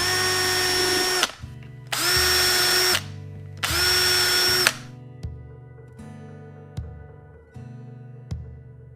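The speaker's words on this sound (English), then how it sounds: "Hold your straight edge in place, get your drill, make sure your collar is riding up against the hole itself," A power drill pre-drills holes for door hinges on a shaker-style door, three loud whining bursts of motor spin near the mic, followed by quieter lower hums and clicks.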